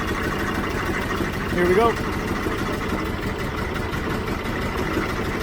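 A 1967 VW Type 3 Squareback engine idles steadily at close range, its rough low rumble running continuously while someone talks over it and the revs lift briefly partway through.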